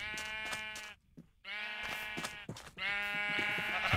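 Minecraft sheep bleat loudly and close by in two long, wavering calls separated by a short silence, with a third call starting near the end.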